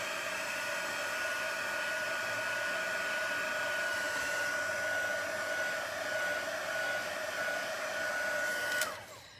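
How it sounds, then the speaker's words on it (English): A handheld heat tool blows a steady, close whining roar with a high tonal whistle as it dries paper on a handmade card, running continuously before cutting off near the end. "Let me just do a little bit more drying right up in here."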